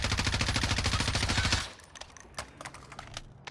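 Rapid automatic fire from an M4 rifle in the video game Warzone, a loud, fast burst of evenly spaced shots lasting about a second and a half before cutting off to quieter scattered clicks and faint sounds.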